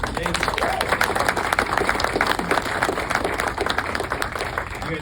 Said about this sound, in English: You guys picked up on that applause cue really well.